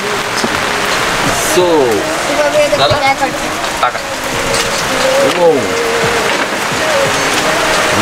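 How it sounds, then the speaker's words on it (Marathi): Heavy rain pours steadily through a camping stay at Mandede amid strong wind, a constant broadband hiss running the whole way under people talking nearby. "तुफान पाऊस आहे."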